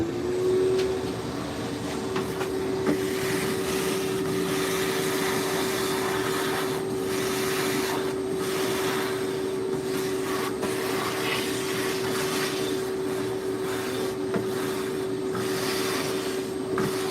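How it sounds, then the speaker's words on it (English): A shop vacuum runs nonstop with a steady drone and fixed whine while sucking up oak wood shavings in a woodturning shop, with faint rustling and rasping as debris passes through the nozzle. "I'm going to take my vacuum on that."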